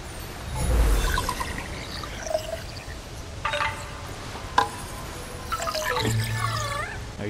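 Rushing water from a waterfall in Kena: Bridge of Spirits, a steady splashing wash with gurgles and trickles, punctuated by a few chimes and tonal game sounds over several seconds.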